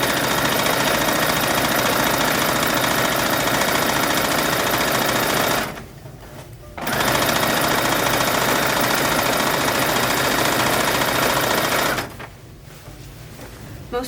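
A sewing machine stitches a petticoat hem at a small 2 mm stitch, running in a loud, steady mechanical whir that stops briefly twice before starting again.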